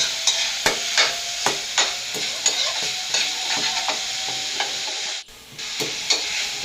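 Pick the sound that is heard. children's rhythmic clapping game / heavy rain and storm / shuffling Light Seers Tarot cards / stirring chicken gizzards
stirring chicken gizzards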